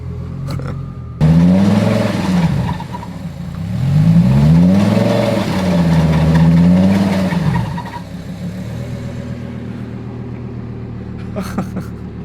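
Damaged Lamborghini engine revving while driving, rising and falling through several loud throttle swells before settling to a lower rumble, with a few clicks near the end.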